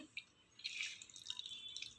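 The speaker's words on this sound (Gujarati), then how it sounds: "પાણી નીતારી લેવાનું" Water drips and trickles off soaked dahi vada lentil fritters as they are squeezed by hand, a close, quiet splattering that starts with a single drip and then runs as a steady, uneven trickle.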